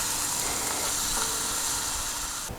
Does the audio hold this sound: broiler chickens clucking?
no